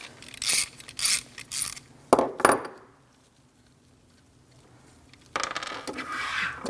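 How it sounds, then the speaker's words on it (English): A hand ratchet fitted with an 8mm socket works a bolt loose on a 2006-2011 Chevrolet front door: short bursts of clicking pawl strokes, a pause of near silence, then a longer steady run of ratcheting, close and distinct. "Let's start by removing this bolt."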